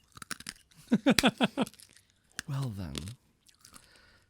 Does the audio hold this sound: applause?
no